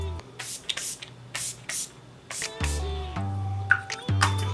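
Urban Decay All Nighter makeup setting spray misted in several short, airy hissing bursts, close and fairly soft, with music playing underneath.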